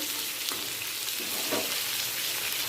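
Pointed gourd (potol) pieces fry in mustard oil in a pan, a steady close sizzle with soft spatters and a brief stir partway through, no voices.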